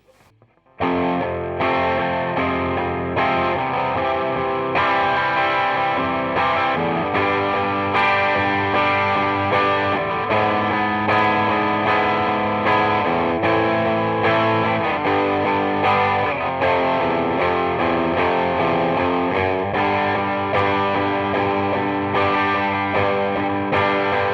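An electric guitar with humbuckers plays through a Klon-style overdrive, giving a steady stream of driven chords and riffs for over twenty seconds, loud and close without any talking.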